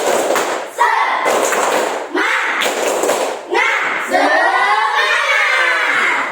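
Schoolchildren in a classroom clap together in a rhythmic cheer, a few brisk patterned bursts of group clapping and thumps with young voices calling along between them.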